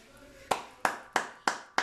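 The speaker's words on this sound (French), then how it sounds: "je t'applaudis franchement Justin, Ryan Arthur, Guillaume Arthur" Five sharp, evenly spaced hand claps, close and distinct, each with a short ringing decay in a quiet room.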